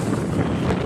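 Strong wind buffeting the microphone on a seaside breakwater at Mamaia Nord near Năvodari, a loud, dense roar filling the whole brief moment.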